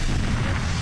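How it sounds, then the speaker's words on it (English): An explosion from the Nintendo 64 shooter GoldenEye 007: a short, heavy, rumbling boom that fills the whole moment with deep low-end weight. "Everything explodes."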